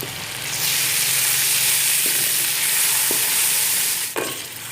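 Masala with salt and turmeric frying on low heat for an aloo pakora curry, a loud, dense, continuous sizzle close up, with a few faint knocks of a spoon and nobody speaking.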